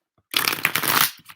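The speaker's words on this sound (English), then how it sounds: "I riffle and bridge one way, then the other, so that my cards don't just bow one direction" A tarot deck being riffle shuffled and then bridged, a dense, loud burst of rapid card flutter followed by a few soft settling taps, with no talk.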